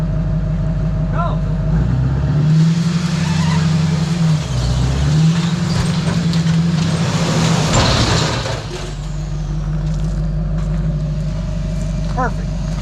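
A car wheel spun up in a custom shop, heard as a loud continuous engine drone with rising and falling pitch sweeps, briefly squealing and hissing before settling back to a steady roar; voices speak over it.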